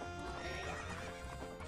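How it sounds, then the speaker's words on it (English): A horse in Zelda: Majora's Mask gallops with quick clip-clop hoofbeats and lets out a whinny, heard clearly and fairly faint as game sound. "so how do I have this horse again?"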